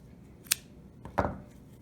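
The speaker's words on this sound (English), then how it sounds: "finish it off and cut your yarn" Scissors snip crochet yarn close up. There are two quick, crisp cuts about half a second apart in a quiet setting.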